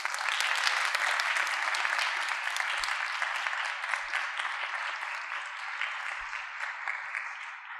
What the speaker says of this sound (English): I would like us to give a round of applause to Karen